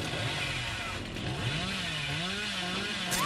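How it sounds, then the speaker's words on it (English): A chainsaw from the video game Dead by Daylight snarls and revs continuously for a few seconds, loud and up close, its pitch wavering as it runs. "I used a chainsaw"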